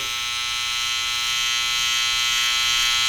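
Cheap Chinese-made hair clippers buzz steadily and loudly at close range while cutting hair around the ear, a continuous motor hum with no talk.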